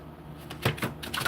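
Tarot cards are shuffled by hand close by, giving a few quick, soft bursts of riffling and papery slaps over a quiet background.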